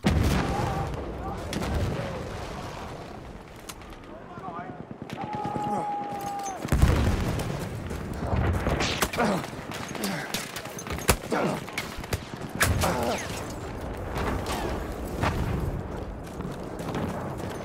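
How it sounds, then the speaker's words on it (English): Dense video game battle soundscape from Battlefield 1: rapid machine-gun bursts, tank fire, booming artillery and explosions, loud and continuous with sharp cracks throughout. "tanks shooting and causing huge explosions, the machine gun turrets, the artillery"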